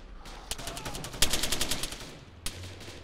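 Gunfire in the video game Arma 3 during a zombie night mission: a string of sharp shots, some single and some in a rapid burst in the middle, then one last crack near the end, at moderate loudness.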